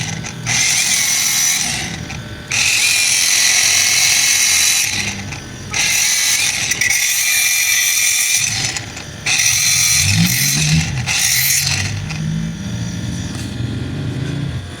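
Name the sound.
DT Rock portable grinder cutting a bike fender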